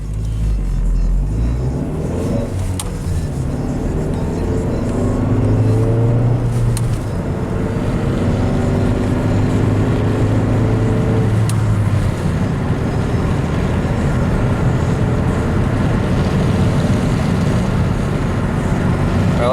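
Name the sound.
Ford Mystique car driving on test spin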